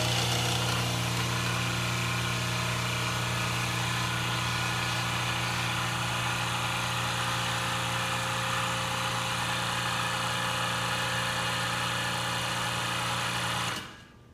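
A hydraulic press rated to about 45 tons drones steadily as it builds pressure, a loud, even mechanical hum with a whining motor tone that holds for many seconds and then cuts off abruptly near the end.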